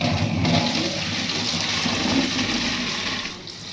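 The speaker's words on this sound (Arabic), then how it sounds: "ما افتح الميه" Kitchen tap opened to drain pasta, a steady rushing stream of water pouring close by for a few seconds, with no one talking.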